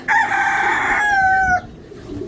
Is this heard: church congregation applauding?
no